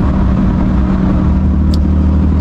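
An 850 hp Porsche GT2 RS accelerating hard, a loud, steady low engine roar filling the cabin throughout, heard from inside with no talking.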